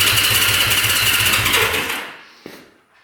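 A cheap used motorcycle's engine runs with a fast, rattling pulse before stalling out, dying away within a couple of seconds and leaving a brief clunk in the quiet.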